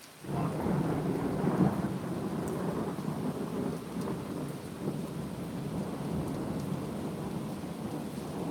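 A thunderstorm rolls on steadily, with heavy rain hissing over a deep, continuous rumble of thunder that swells early on and then stays loud throughout, without any voices.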